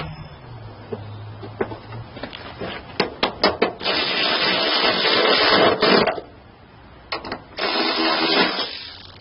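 A bolt goes into the wiper motor of a Toyota Sienna. A quick run of close clicks and knocks gives way to loud, sustained mechanical whirring bursts that stop briefly and start again.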